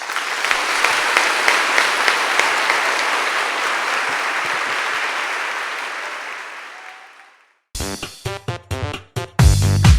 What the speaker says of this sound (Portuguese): Aplauda a sua igreja.